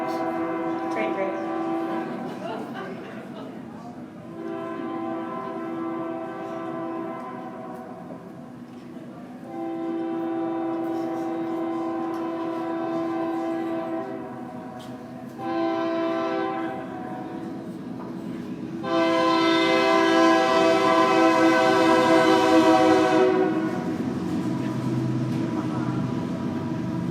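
A freight train passes a brewery where a public science talk is underway. Its horn sounds in several long, loud blasts separated by pauses, and the last blast is the loudest, all over a continuous rumbling rail roar.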